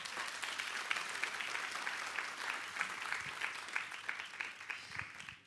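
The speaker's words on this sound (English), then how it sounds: "Can we give Atomy a round of applause?" Audience applause at a business presentation, many hands clapping in a sustained crackling patter that stays fairly even, then tapers off at the end.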